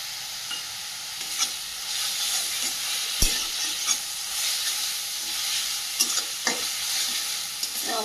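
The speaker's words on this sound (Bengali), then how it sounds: "বেশ ভালোভাবে ভেজে নিয়েছি আদা রসুনটা" Ginger, garlic and green chilli paste sizzles steadily in a pan, a broad hiss carrying throughout with scattered scraping clicks of a spatula and one sharper knock near the middle; no talking.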